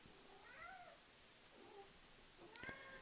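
A house cat meows several times, a pair of drawn-out cries followed by a shorter, sharper one, fairly close over a quiet room background with no talk.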